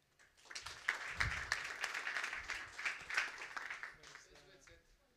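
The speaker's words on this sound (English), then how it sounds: "Mário, give him an applause, please." Audience applause welcoming a speaker at a startup hangout event in Lisbon, a few seconds of moderate clapping from a room of people that swells, then fades as talk and rustling take over.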